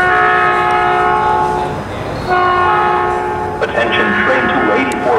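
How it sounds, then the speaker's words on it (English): Caltrain passenger train approaching, its multi-tone horn sounding loud and close in long blasts, with a brief gap, then rumbling wheels and clatter as the cars near. "here comes Caltrain 2D4"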